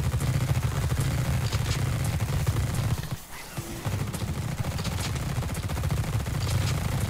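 Sustained automatic gunfire in the squad-based sci-fi game The Red Solstice, a dense, continuous rattle of rapid shots that briefly cuts out for a moment before resuming at full intensity.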